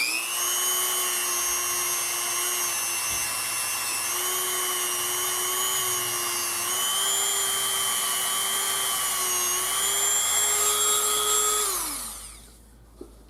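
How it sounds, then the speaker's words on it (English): A Dremel rotary tool smooths the pins of a Smith & Wesson revolver with a high, steady whine that shifts pitch slightly as it works. After about twelve seconds it spins down quickly, leaving near silence and a faint click. "take your Dremel and go around the pins"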